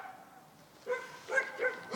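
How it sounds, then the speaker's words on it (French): A dog barks indoors, three short yelps spaced about half a second apart, moderately close and loud against a quiet room with no talk. "c'est mon chien qui aboie"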